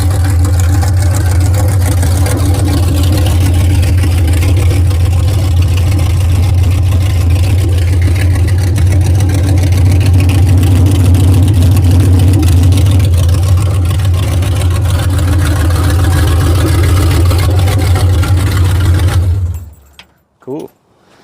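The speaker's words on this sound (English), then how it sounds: "So the engine sounds pretty good." A 1956 Chevy big block engine with a stock cam idles steadily and loudly for about nineteen seconds, a deep continuous rumble with people talking over it, then cuts off abruptly near the end.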